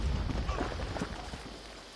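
A horse's hooves clip-clopping in a PS4 video game, a quick run of muffled hoofbeats under game noise and a faint voice.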